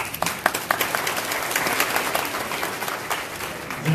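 An audience claps in sustained applause for a professor at a university event, a dense steady patter of many hands filling the room at moderate loudness.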